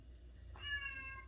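A pet cat named Taz lets out a single whiny meow partway through, a short drawn-out call heard close by against a quiet room with low background hum.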